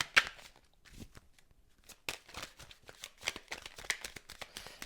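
Tarot cards are shuffled by hand for a reading, giving soft, close flicks and slaps in an irregular, continuous patter at low volume.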